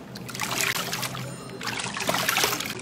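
Water splashes and trickles continuously as soap foam is rinsed off a face, a close, moderately loud wet sloshing with irregular bursts and no speech.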